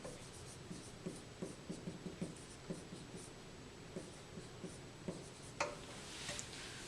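Pen or pencil scratches softly across paper in short, irregular strokes, faint and close, against a quiet room hiss.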